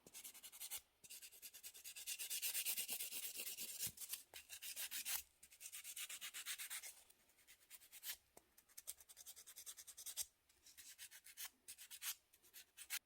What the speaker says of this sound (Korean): 전체 샌딩 작업 해주세요.